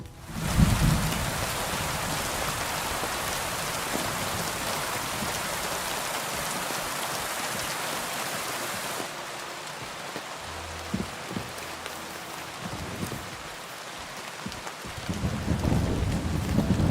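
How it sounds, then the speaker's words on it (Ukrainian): Steady hiss of heavy rain pours down in a medieval open-world game, with low rumbles of thunder rolling in at the start and again near the end, the downpour thinning slightly halfway through. "І дощ зараза почався."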